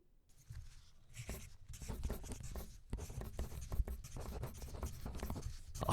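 Pens scratch titles onto slips of paper in quick, irregular strokes with brief pauses, close and clear, with no talking.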